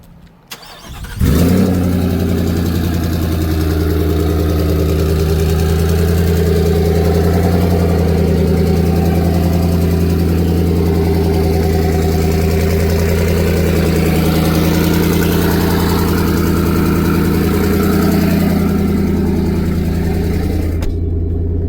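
A built twin-turbo Ford F-150 pickup engine cranks and fires, then settles into a steady, loud, deep rumble that holds evenly for about twenty seconds, heard up close from inside the cab.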